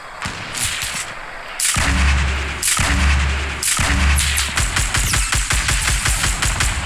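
Gunfire in the Fortnite Battle Royale video game comes as loud, heavy booming blasts in clusters, followed by a run of rapid sharp shots.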